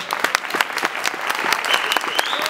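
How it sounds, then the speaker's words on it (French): Applause from an audience at a Gilets Jaunes rally, steady dense clapping filling the whole moment, fairly close and loud with no voices over it. "On peut les applaudir."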